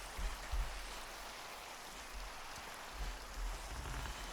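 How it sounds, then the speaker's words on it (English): Steady rain falling in a video game, a dense, even hiss with soft low patters, fairly quiet and continuous, with no voices. "why is it raining all the time over here?"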